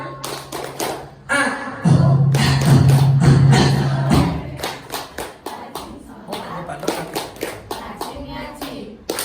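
Children clap along to a rhythmic religious chant at an orphan charity gathering marking 10 Muharram, with taps and claps mixed under steady group voices and a held vocal tone.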